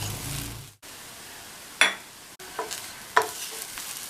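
Spice powder of roasted pepper, coriander, cumin and fennel being stirred into raw banana stir-fry in a pan, giving soft scraping and scratching strokes with a few sharper clinks over a low sizzle.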